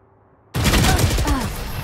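Valorant gunfire erupts after a half-second of quiet: a loud, dense burst of rapid shots that sustains to the end, with a voice faintly present in the mix.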